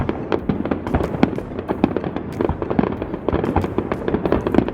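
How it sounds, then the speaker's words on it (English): Fireworks burst over Odaiba, Japan, in a dense, continuous barrage of booms and crackles that overlap one another without pause, loud and sustained. "I love fireworks."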